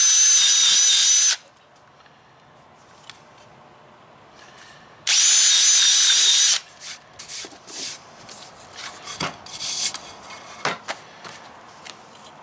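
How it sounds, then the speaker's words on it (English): A power drill with a 3/16 inch bit bores a small hole in a Promaster 2500 van during wall framing, two loud steady whining bursts with handling clatter and scraping afterward. "We use a 3/16 inch drill bit, and we're just going to drill a little hole here"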